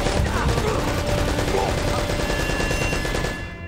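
Dense, continuous gunfire in the video game Uncharted: Drake's Fortune, overlapping bursts and rattling shots that run loud and steady before easing off at the end.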